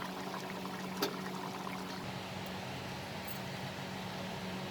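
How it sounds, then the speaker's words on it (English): Cooked chana dal fry, finished with tadka, tipped from the pan into a serving bowl, heard as a soft, faint pour with a small clink near the start and low background hum. "So let's put off the flame and transfer it to the serving bowl."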